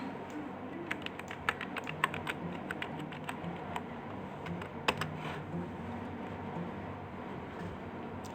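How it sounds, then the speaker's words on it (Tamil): Computer keyboard keys tapped in quick irregular bursts while typing captcha characters, close and fairly quiet over a low background hum, with a few louder clacks. "அங்கே இருக்கிறத நம்ம அப்படியே அதில் டைப் பண்ணி போட போகிறோம்."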